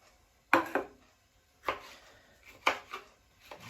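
A knife slices through a red and green bell pepper on a cutting board, giving four crisp, separate chops spaced about a second apart, close and fairly loud, with no talking.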